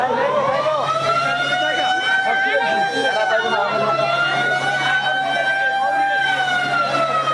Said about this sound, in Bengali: যন্ত্রের হর্নের আওয়াজ আরো অবস্থা খারাপ করে দেয়